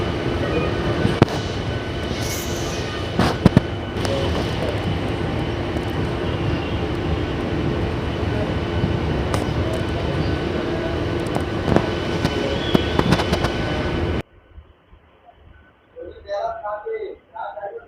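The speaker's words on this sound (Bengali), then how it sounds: "সাঁতরাগাছি স্টেশন থেকে 44 কিলোমিটার কভার করে আমাদের ট্রেন এসে পৌঁছে গেল ফাইনালি আমতা" A Santragachi–Amta local train runs loud and steady for about fourteen seconds with rumbling wheels and brief clanks, then cuts to a much quieter stretch where voices talk.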